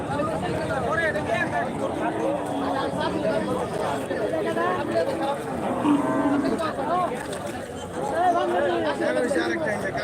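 Several cattle moo in drawn-out calls at an Eid cattle market, over a constant babble of a crowd, with voices chattering nearby throughout.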